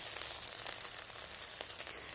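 Soybean chunks sizzle in a frying pan, a constant close hiss of hot oil with faint, scattered crackles throughout.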